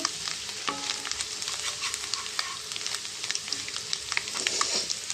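Cabbage and carrot fry in a pan with salt and turmeric for a chicken fried rice dish, giving a steady close sizzle with frequent light scraping and stirring clatter from a spoon.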